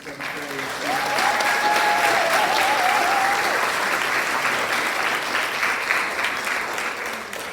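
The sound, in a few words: audience applause for 5th and 7th graders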